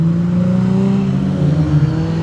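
A car revs as it drives past on a street outside an office building, a loud, steady engine drone with rising and falling pitch and no talking.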